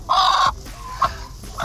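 A black broody hen clucks close by, one loud drawn-out cluck followed by a couple of shorter, softer clucks.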